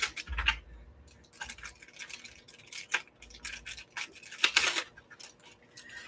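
Scissors snip through paper while fussy cutting out a foil-wrapped spoon shape, a series of close, crisp irregular cuts with quiet pauses between them and no talking.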